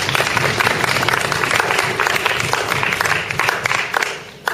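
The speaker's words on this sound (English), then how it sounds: "Please give a big round of applause of our grand finalists." An audience gives a loud, dense round of applause for the grand finalists of a secondary-school debate competition in Gwangju, continuous and close, fading slightly near the end.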